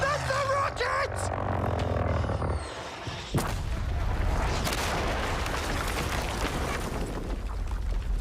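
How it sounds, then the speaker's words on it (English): Rockets fire and explode in the Battlefield 5 video game, loud booming blasts and a sharp crack over rumbling battlefield noise, with a voice briefly heard at the start. "That's the rockets!"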